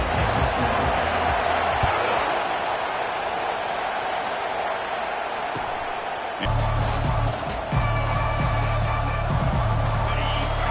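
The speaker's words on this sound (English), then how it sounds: "And this crowd coming to life here, trying to help the defense get a stop with the offense pinned back." College football stadium crowd at a UCLA Bruins game, a broad roar of many voices that swells partway through with cheering and whoops, heard mostly alone at a distance.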